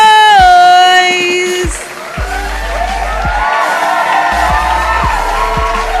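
Studio audience cheering and making noise for a literacy program broadcast, a broad wash of crowd whoops and voices sustained for several seconds after a tonal musical sting at the start.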